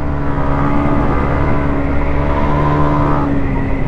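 A 2020 Yamaha MT-125 motorcycle leans through a curve, its engine holding a loud, steady drone close by with no break in pitch.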